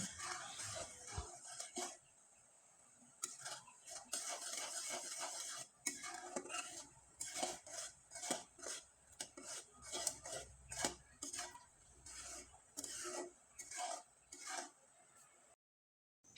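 A spoon stirs sugar syrup in a pan as it thickens, giving steady scraping and rubbing strokes with light clinks of metal on the pan, fairly close and continuous for the whole stretch.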